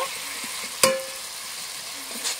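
Fried potatoes are stir-fried with spice masala for a bitter gourd curry, a steady close sizzle broken by one sharp metallic clink of a utensil against the pan.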